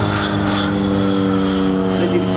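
A high-wing aerobatic aeroplane at Shoreham Airshow drones loudly and steadily through a stall turn, its propeller engine holding a rich, even tone.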